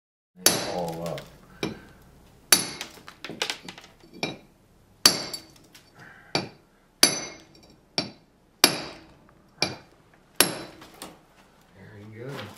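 A stone mason drives a chisel into stone with a hammer, about a dozen sharp metallic strikes at an uneven pace with quiet gaps between them, close and distinct.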